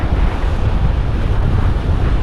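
Sea waves at Mandvi beach in Ratnagiri wash in as a continuous broadband roar, heavily mixed with strong wind buffeting the microphone, loud and steady with no talk.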